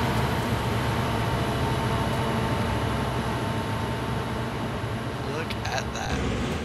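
A long train rolls past in the video game Train Sim World 2, a dense, steady roar of wagons going uphill that holds loud and continuous, with a few sharp clanks near the end.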